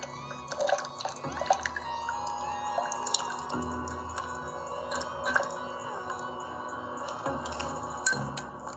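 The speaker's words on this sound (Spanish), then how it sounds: "Utilizamos el dosificador de agua destilada para hacer el lavado de las paredes y no se nos quede muestra" Distilled water squirted from a wash bottle rinses the walls of a soil-mechanics mixing cup, heard as scattered drips, taps and small liquid splashes against a faint steady background hum.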